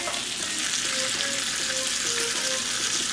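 Pork ribs coated in barbecue sauce sizzle and caramelize in a pan on a stove, a loud continuous close-up frying hiss with faint intermittent tonal squeaks underneath.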